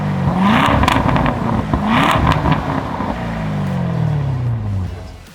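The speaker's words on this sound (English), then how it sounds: "We've got a burble tune for the stock, Stingray Grand Sports." A stock C8 Corvette Stingray Grand Sport running a burble tune revs hard in loud, rising pulls, then settles into a long, rumbling decel with crackle, close and without talk.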